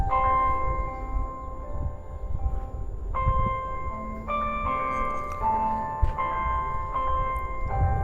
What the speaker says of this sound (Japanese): ちょうど夕方のチャイムが鳴って、帰る時間になるかなっていう感じですね。